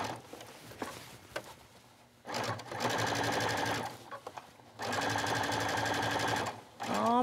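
A sewing machine stitches bias trim around an armhole in two steady bursts of fast, close mechanical whirring, with a quieter pause and light handling noises between them.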